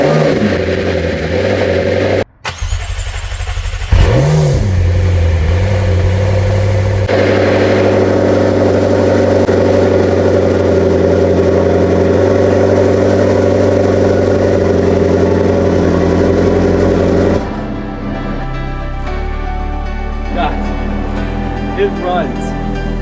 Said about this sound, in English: What an absolutely incredible moment hearing this engine run.